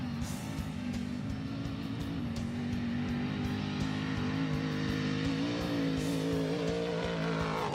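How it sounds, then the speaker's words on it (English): An off-road race truck's engine roars loud and steady at the start of a Baja peninsula desert race, its pitch climbing gradually as it pulls away, with no talk over it. "Listen to the sound of that truck."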